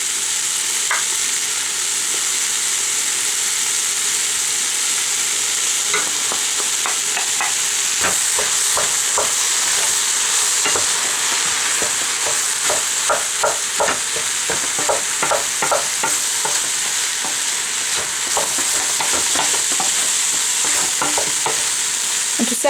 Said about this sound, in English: I'm just taking my wooden spatula and I'm making a crisscross pattern, touching the bottom in one way and then the other way